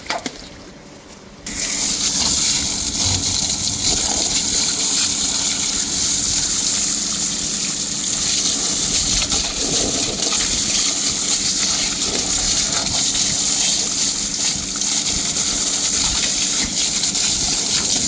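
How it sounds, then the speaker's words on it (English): A high-pressure drain-jetting nozzle sprays water in a loud, continuous gushing rush that washes down a drain, starting after a brief quieter moment and then holding steady with no one speaking. "pull the nozzle off and I'll wash everything down"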